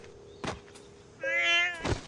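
A single cat gives one clear, drawn-out meow in the middle of the clip, preceded by a dull thump and followed by another knock, close and fairly loud.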